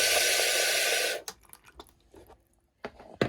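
An RV bidet fitted to a Dometic 300 toilet sprays wash water in a steady, close hiss lasting about a second before cutting off, followed by faint scattered handling clicks.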